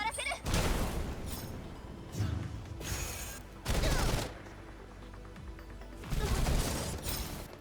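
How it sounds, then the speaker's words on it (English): A barrel detonates during a firefight in the game Girls Frontline 2, with heavy bursts of gunfire and crashing blasts arriving in several loud waves. "and detonate this barrel"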